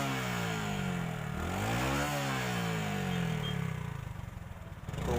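A Hero Super Splendor motorcycle with a white smoke fault runs its engine close by, a steady mid-pitched drone whose pitch dips and rises briefly as the throttle is blipped.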